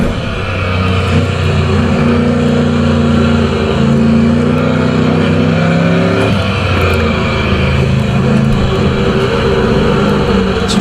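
Super Truck engine in the Automobilista racing sim revs loud and steady throughout, harmonic tones climbing and dipping as the race truck drifts, continuous with no voices.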